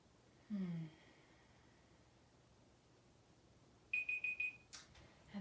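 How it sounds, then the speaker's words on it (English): A timer alarm goes off near the end of a shoulder-tension exercise as a short run of electronic beeps, followed by a click, after a brief tone earlier on. "I'm going to turn off the timer here."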